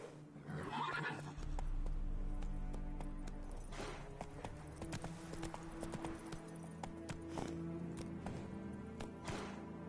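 Roach, a horse in The Witcher video game, whinnies and trots with steady clip-clop hoofbeats, loud and close, over a low droning game soundtrack.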